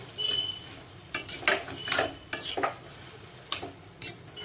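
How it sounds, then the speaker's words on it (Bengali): Peas and vegetables cooking in very little oil in an iron wok, with repeated scraping and clinking of a metal spatula against the pan over a faint sizzle, close by. "একদম নামমাত্র তেলে করছি একদম বেশি তেলে করছি না তাই জন্য লোহার কড়াইটা ইউজ করলাম"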